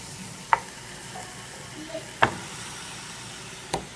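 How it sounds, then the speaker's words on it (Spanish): Chicken pieces fry in a hot skillet, giving a steady close sizzle broken by three sharp knocks of a utensil against the pan. "este pollo lo vamos a cocer en un sartén"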